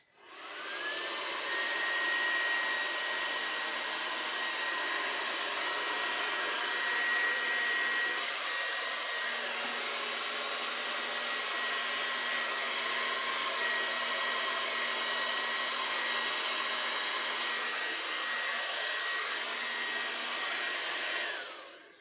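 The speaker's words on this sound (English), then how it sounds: "Okay, here comes the blow dryer part." A hair dryer blows steadily and fairly loudly for about twenty seconds, pushing white acrylic paint over colors in a Dutch pour, with a constant whooshing roar and a faint whine that shifts slightly, alone without talk.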